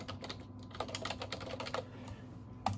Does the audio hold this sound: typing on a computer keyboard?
yes